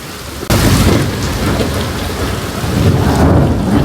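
Torrential rain pounds down in Surat, and a sharp crack of thunder bursts in loudly near the start before a dense, continuous roar of rain fills the rest.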